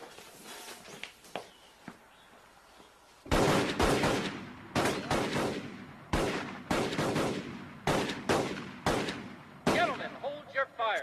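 Loud gunfire rings out at a shooting range weapons demonstration, first a few distant pops, then a long run of heavy, close shots in rapid bursts with echoing decays.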